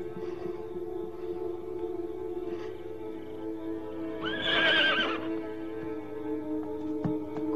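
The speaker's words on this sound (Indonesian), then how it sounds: "Kuda itu sudah menunggumu." Horse neighing in a period martial-arts film scene, a single whinny rising over steady background music around the middle of the clip, moderately loud and fairly close.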